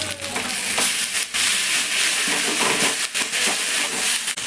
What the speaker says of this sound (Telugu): ఇప్పుడు ఇది మంచిగా ఉడకాలి ఆయిల్లో